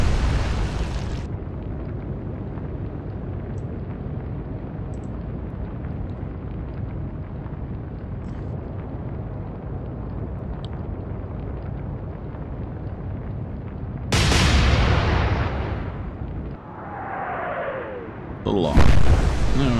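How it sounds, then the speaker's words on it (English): Naval gunfire and a ship explosion in the warship game Atlantic Fleet: a long, steady low rumble of battle, then a loud burst near the end, a brief dip, and a second loud blast closing it out. "Hey, there's an explosion."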